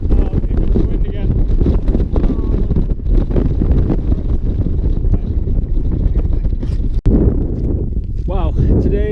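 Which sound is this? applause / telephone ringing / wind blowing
wind blowing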